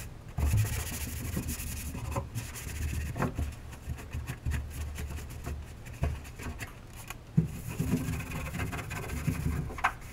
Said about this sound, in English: I gave it one last wipe down with Windex